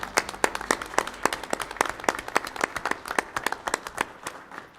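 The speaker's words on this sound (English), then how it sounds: "Please give a round of applause for Stacy Oldham." Audience applause at a city council meeting honouring a Life Without Limits Award winner, steady close hand clapping with sharp, rhythmic claps throughout.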